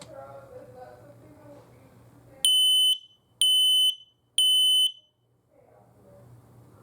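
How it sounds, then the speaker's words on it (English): Three loud, piercing electronic beeps from an X-Sense WiFi smoke alarm being tested, evenly spaced, with quiet indoor sounds and a faint voice before and after. "whenever you test your smoke alarm"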